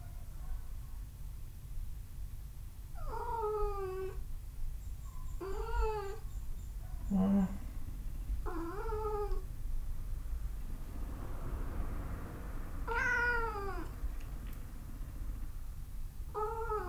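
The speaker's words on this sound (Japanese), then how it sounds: "なんでこんな朝早くから外行きたいのよ、ね、猫吉。" Cat meowing early in the morning to be let outside, about five drawn-out pleading meows spaced a couple of seconds apart, close and clear over a low background hum, with a brief soft voice.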